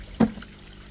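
A single short splash of still water goes into a pot for a Black Sea mackerel marinade with bay leaf, pepper and vinegar, followed by a quiet pause.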